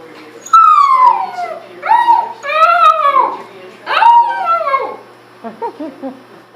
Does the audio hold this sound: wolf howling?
yes